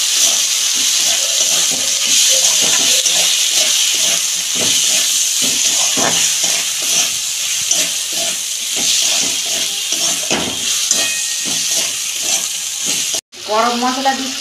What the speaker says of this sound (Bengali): এটা দিয়ে আমি ভালো করে কষাবো।